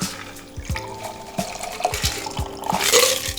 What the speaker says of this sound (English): The next thing we're gonna do is pour this out into my champagne flute.